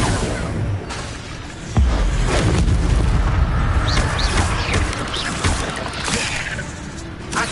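Incendio fire spell blasts in the video game Hogwarts Legacy, booming bursts with a roaring whoosh over busy game sound, one heavy hit near the start and later flaring blasts.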